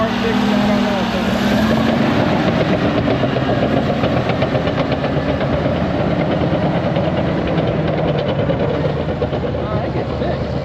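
A former US Army Cat D6R high-track bulldozer's diesel engine runs steadily and loud close by, a constant rumbling chug with a faint tonal whine at the start and voices underneath.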